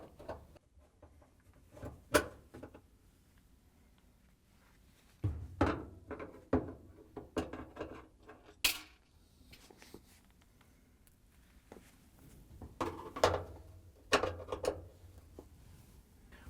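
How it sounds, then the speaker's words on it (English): Scattered metallic clicks and small clunks of a Phillips screwdriver working screws loose from an LG/Kenmore dryer grill, irregular and close, with quiet pauses between bursts. "we can reach in with our Phillips screwdriver and remove the screws that holds the grill in"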